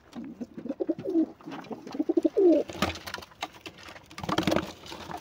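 Pigeons cooing inside a loft: several soft, warbling coos close by, followed by bursts of fluttering wings and scuffling as birds move about.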